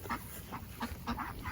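Several short honks from a duck, repeated in a loose rhythm over about a second and a half, moderately faint against a low background rumble.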